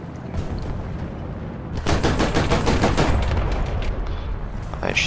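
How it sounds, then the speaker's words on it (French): Anti-aircraft gunfire hits a player's tank in a World War II tank video game, a loud burst of rapid, evenly spaced shots lasting a few seconds after quieter battle noise. "Oh bordel, je me fais attaquer par une DCA, évidemment."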